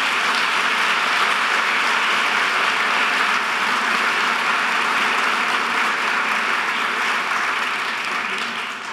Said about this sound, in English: So please join me in giving our student leaders a round of applause.